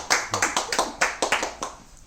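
Audience applause in a sculpture modelling studio, a burst of irregular hand claps from a small group close by, steady for about two seconds before tapering off.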